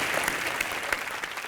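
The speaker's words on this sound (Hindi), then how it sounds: "जोरदार तालियां आ जाए" A studio audience at a comedy show breaks into a brief, loud burst of applause, dense and steady from start to finish.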